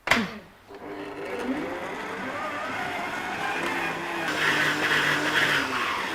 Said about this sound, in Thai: อันนี้จะให้มันตีตีครีมชีสอย่างเดียวไปก่อน